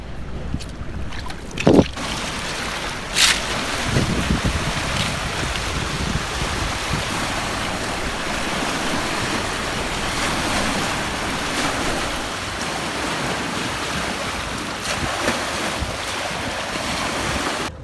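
An incoming tide on the Thames foreshore gives a steady wash of waves lapping at the shore, mixed with wind rumble on the microphone and a few brief knocks.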